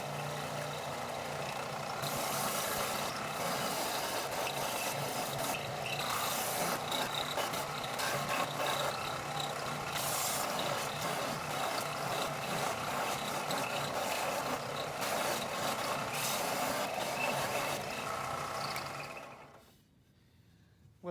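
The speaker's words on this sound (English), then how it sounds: "we're going to remove a bulk of the wood, the belt sander," A belt sander grinds bulk wood from a large hard maple spoon, a loud, continuous abrasive roar with a motor drone that runs nearly twenty seconds, then winds down.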